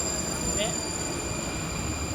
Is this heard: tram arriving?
yes